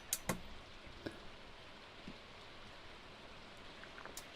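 Steady soft rain patters on a surface outdoors in a garden plot, with scattered louder drops and ticks standing out from a faint, even wash of noise.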